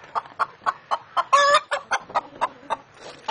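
A chicken clucks in a coop in a quick, regular series of short calls, with one louder, drawn-out squawk in the middle; close by and alone.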